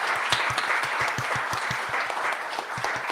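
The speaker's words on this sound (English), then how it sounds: "Everyone, please clap for Lucy." A live-event audience at a games talk in Glasgow claps together in a steady burst of applause, dense and continuous, indoors and fairly close.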